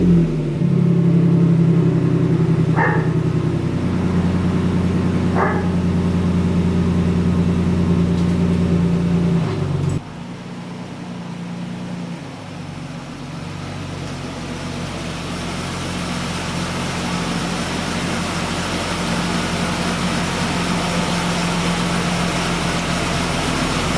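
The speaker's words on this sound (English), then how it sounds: "Let me get the truck pulled in the garage." A Ford Ranger pickup truck engine runs steadily with a low hum, a couple of brief higher squeaks, then the tone shifts abruptly as the truck pulls into a garage, continuing as a quieter, broader rumble.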